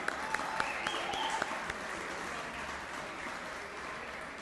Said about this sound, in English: Let's give a round of applause for the good band.